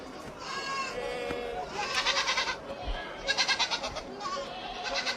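A goat bleats several times in quick bursts, loud and close, with a noisy background and no clear talk in between.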